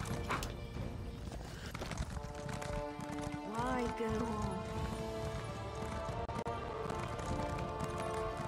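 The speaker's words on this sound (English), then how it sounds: "Get my horse, I'm gone." Hooves clop at a gallop as a horse is ridden in the video game Elder Scrolls Online, a steady rhythmic beat with a neigh partway through, under someone talking.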